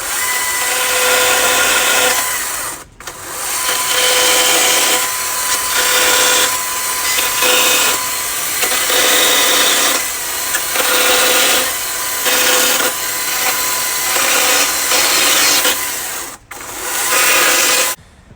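A chainsaw cutting angled cuts into a wooden 2x4 while carving mini bears, running loud and steady with brief drops in the revving, two sharp gaps where the chain stops, and no talking.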